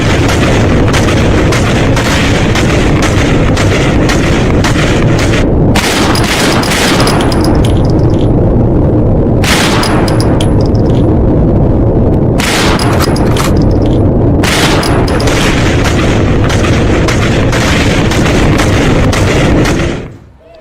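Gunfire from protesters in a street, loud booming shots and bursts rapidly repeating for nearly twenty seconds, with heavy reverberant cracks and a faint voice mixed in.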